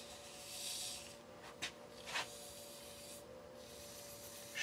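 Fine hand sanding of a shaving brush handle with very fine micro-grit abrasive, a soft, steady hiss of rubbing with a couple of brief louder strokes near the middle, quiet and close.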